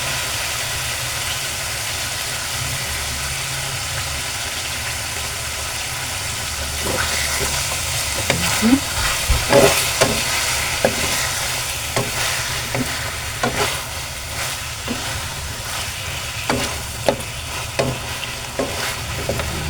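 Chicken afritada sizzles and is stirred in a pan with oyster sauce, a steady frying hiss under repeated scraping and clinking of the utensil, close and continuous.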